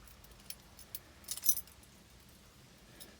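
A small bunch of keys for an old classic car jangles in a few quick bursts, faint and close, with quiet pauses between the rattles.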